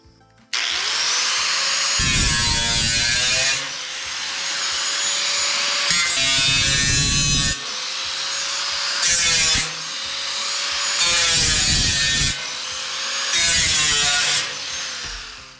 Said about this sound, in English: I'm going to try and cut the steel with the cutoff wheel.